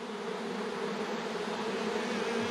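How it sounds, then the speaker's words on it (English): Black honey bees buzz in a wild bee tree hive, a dense, steady drone of many wings close by with no voices. "there's some really pretty black bees in here"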